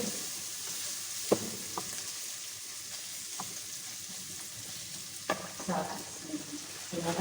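Spices frying in a pan with tomato, cloves, ginger, garlic, black pepper and cumin, a quiet steady sizzle with occasional scrapes and taps of a stirring utensil.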